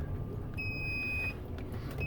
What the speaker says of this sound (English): beeping is still going to happen for another little bit